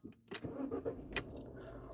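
A car engine starts with a brief cranking and a few clicks, then settles into a low, faint rumble, heard close by.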